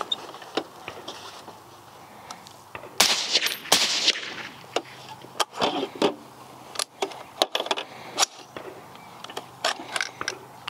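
A suppressed PSA Sabre 10 rifle fires repeatedly on gas setting 3, giving a string of sharp cracks spaced irregularly, with a louder cluster near the middle, outdoors and fairly close.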